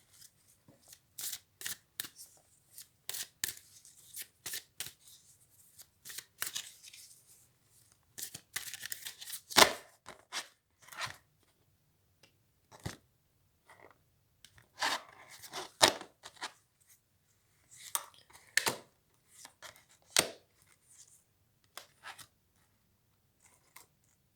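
Tarot cards are shuffled and drawn in a quiet room, giving sharp riffling and snapping bursts in irregular clusters with short silent gaps, close and alone.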